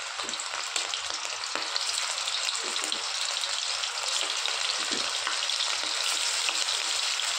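Chicken balls fry in hot oil with a steady, dense sizzle filling the whole stretch, close and loud, with faint stirring clatter now and then and no talking.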